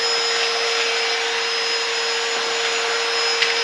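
A little cordless handheld vacuum cleaner runs steadily close by, a continuous high-pitched whine and airy rush with a single sharp tick near the end and no talk.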